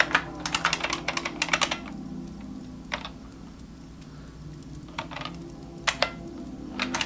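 Computer keyboard typing in bursts of rapid key clicks, with pauses between clusters and a steady low hum underneath; no one talks.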